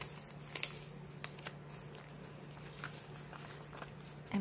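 Vintage paper pages being folded and creased for a journal signature, soft crinkling and sliding with a few sharper rustles, quiet and close with no talk.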